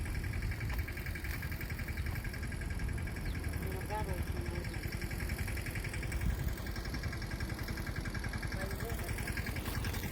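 A farm tractor's engine drones steadily in a field during groundnut sowing, a continuous mid-pitched idle hum that stays even from start to finish.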